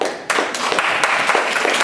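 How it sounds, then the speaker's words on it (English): Applause from a small audience at a literary performance at Tate Modern, a sharp onset followed by scattered, uneven hand claps close to the microphone. "give her a round of applause"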